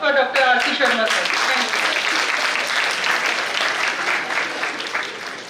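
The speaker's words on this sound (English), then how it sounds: "A great round of applause for Dr. R.C. Sharma, sir." Audience applause at a national seminar for a guest speaker, a dense sustained burst of many hands clapping that holds steady before tapering off at the end.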